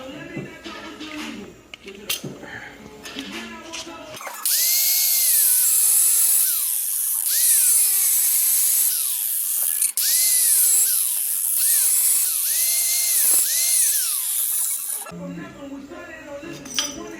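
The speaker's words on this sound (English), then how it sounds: "I'll just be lazy and grind these off with the angle grinder." A loud, steady angle grinder screeches against metal for about ten seconds, its whine rising and falling, with clattering handling sounds before and after.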